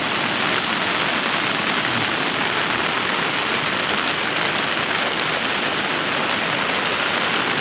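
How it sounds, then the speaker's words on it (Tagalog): Heavy rain pours down steadily beside a swollen river, a dense, unbroken hiss of drops striking surfaces. It stays loud and close throughout, with no voices. "Ayan lakas ng ulan."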